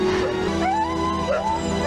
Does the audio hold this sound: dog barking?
yes